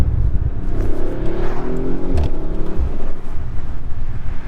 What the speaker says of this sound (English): And the burbles are crazy.